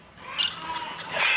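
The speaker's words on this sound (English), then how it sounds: "those are some loud birds over there." Loud birds squawk near a farm, with two harsh, raspy calls about a second apart over a quiet outdoor background.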